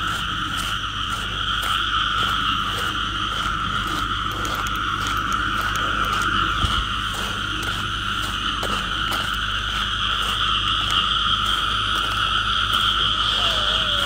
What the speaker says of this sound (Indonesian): Merias ya, katak.